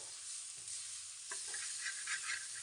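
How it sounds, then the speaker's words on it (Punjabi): Onion chutney roasting on a hot griddle over a gas flame, a soft steady sizzle and hiss with faint stirring scrapes, no talking. "ਚਟਣੀ ਨੂੰ ਆਪਾਂ ਇਹਨੂੰ ਭੁੰਨਦੀ ਨੂੰ 2-3 ਮਿੰਟ ਹੋ ਗਏ ਹੁਣੇ ਤਵੇ ਦੇ ਇਦਾਂ ਹੇਠਾਂ ਨਾਲ ਲੱਗਣ ਲੱਗ ਗਈ"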